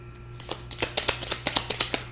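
Tarot cards are shuffled close by in a quick run of crisp riffling flicks, getting louder and more rhythmic toward the end against a quiet room.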